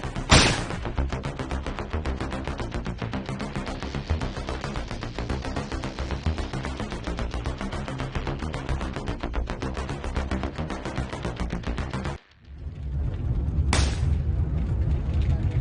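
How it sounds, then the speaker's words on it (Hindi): Gunfire in a Hindi movie scene: a long, dense, rapid burst of loud shots, a brief drop to near silence, then a single loud blast followed by sustained rumbling. "अबे तू सरेआम गोली चला रहा है।"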